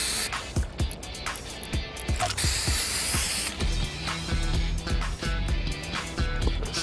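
Spray paint hissing in the Fortnite video game, a sustained airy burst lasting a few seconds amid busy game effects, thumps and clicks.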